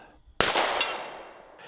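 A single loud gunshot from a Smith & Wesson 586-L Performance Center compensated revolver firing .357 Magnum, a sharp broadband crack followed by a long ringing decay, with a smaller click near the end.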